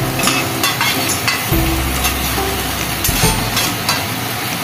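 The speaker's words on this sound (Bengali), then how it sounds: "এটা ভালো করে আমি এটাকে আমি ফ্রাই করব, মানে কষাবো" Spiced, marinated chicken is fried down in a pan with its masala, producing a loud, dense sizzle with repeated scraping and stirring strokes, close up and without any voices.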